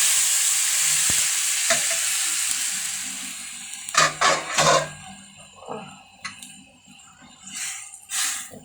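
Jute leaf and shrimp broth stirred in a pan, a soft simmering hiss at first, then several close bursts of spoon scraping and clattering against the pan, no speech.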